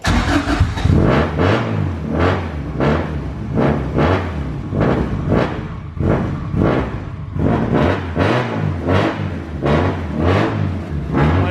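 A car with a clutch, in a repair setting with clogged parts, is started and kept running, its engine throbbing in a loud, rhythmic pulse of repeated revs close by.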